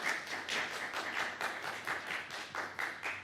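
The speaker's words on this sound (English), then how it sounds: "Please refrain from applause" Applause from the audience at a city council meeting, sustained clapping from many hands throughout, steady and fairly loud with no speech over it.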